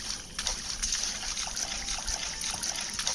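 Dirty water runs steadily in the horror video game Granny, a continuous trickling and splashing with small irregular spatters, fairly faint and heard without talk.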